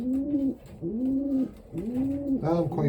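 Pigeons in a loft, including London bulk breeding birds, give repeated close, soft rolling coos in steady phrases, with a few more pressed calls at the end.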